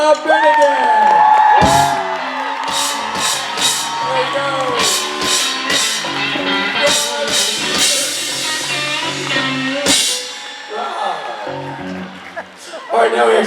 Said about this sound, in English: Ladies and gentlemen, round of applause for Mr. Rob Benedict.